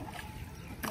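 A wooden boat is rowed across the shallow water of Sailan beel, a brief, close swish of water that ends in a louder splash.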